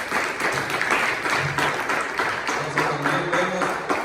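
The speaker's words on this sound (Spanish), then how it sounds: "Denle un fuerte aplauso." Church congregation clapping together during a sermon, a steady dense patter of applause at moderate loudness that carries on throughout without pause.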